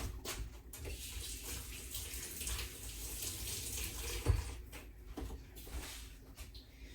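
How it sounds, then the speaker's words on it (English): Hands being washed under a running kitchen tap: steady splashing water with shifting bursts and a soft knock partway through, close and fairly quiet, no speech. "Wash my hands."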